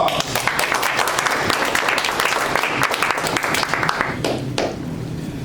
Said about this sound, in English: Let's give Ken Rowe a warm round of applause